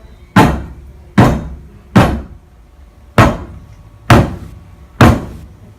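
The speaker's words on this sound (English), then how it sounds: "they hear knocking at the door" Six heavy knocks land on a wooden door, sharp and resonant, in an uneven rhythm with short gaps and one longer pause. The knocking is close and loud, with no voices.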